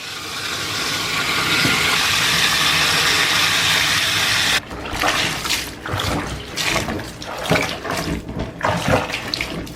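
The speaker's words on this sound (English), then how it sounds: "Add some water. You want to add hot water." Steady rushing of hot water pouring from a tap, then splashing and gurgling as it fills a basin, loud and close with no talking.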